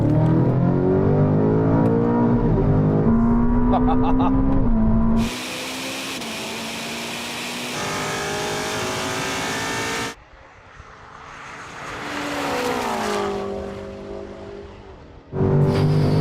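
A BMW M5 and a Ferrari SF90 accelerate hard in a drag race from a third-gear roll-on, engines roaring loud and close with rising pitch through gear changes, then a brief drop and another surge.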